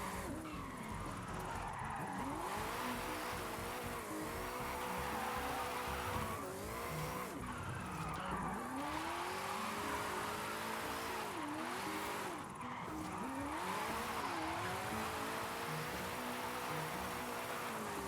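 A Ford Mustang Mach-E drifts in Forza Horizon 5, its tyres squealing in long wavering sweeps over a steady, loud motor whine, sustained throughout with brief breaks between slides.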